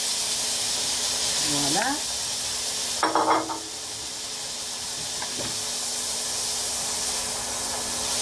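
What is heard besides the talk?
shrimp sizzling in pan with onion and garlic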